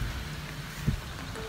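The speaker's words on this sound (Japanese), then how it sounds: "雨がすごい、 雨すごいね、本当に。" Steady hiss of heavy rain falling on a golf course, soft and even throughout with one brief nearby thump, no talking.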